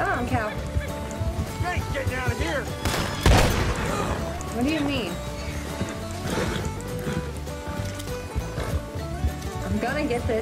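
Incendiary buckshot from a shotgun in Red Dead Online booms once loudly amid a chaotic fight, with scattered shots, horse hooves and people talking throughout.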